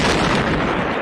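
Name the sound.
sound of two neutron stars colliding in a massive explosion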